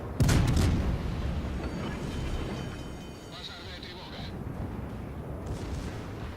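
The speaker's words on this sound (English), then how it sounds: "Secondaries are going off on the airfield at this point." In World of Warships, secondary guns pound an airfield: a sharp cluster of booms opens, then a rumbling spread of distant battle noise and a short high tone continue at moderate level.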